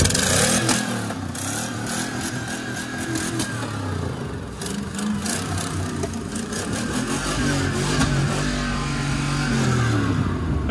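GMC Sierra truck cold-starting and revving through a dual exhaust, a loud close engine roar rising and falling with repeated throttle blips and a rough idle between.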